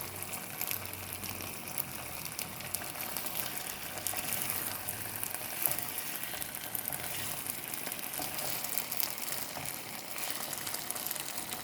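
Marinated boneless chicken thigh frying in a pan for barbecue steak, a steady crackling sizzle with scattered pops and spits, moderately loud and continuous with no talking.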